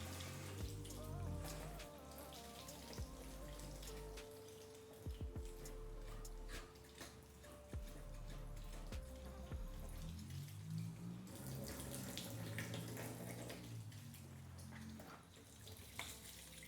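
A stream of water sheets over the quartz-coated body of a 2012 Fiat Abarth, a soft, steady splashing and trickling, fairly quiet and constant, with no voices.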